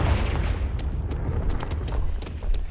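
The Confringo explosion spell goes off in Hogwarts Legacy on Nintendo Switch. It makes a deep, rumbling boom that stays loud and dense for the whole moment.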